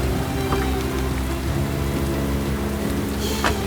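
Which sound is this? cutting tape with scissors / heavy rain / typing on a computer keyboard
heavy rain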